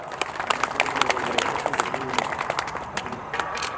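An audience at a Korean martial arts festival applauds, dense steady clapping from a sizable crowd that carries on throughout at moderate loudness, with a voice speaking over it.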